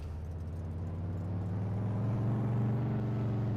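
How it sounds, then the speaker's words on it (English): A small train rumbles past in Farming Simulator 22, a low steady engine drone with a faint rising whir that swells a little louder toward the end, with no talking. "Little trains going through."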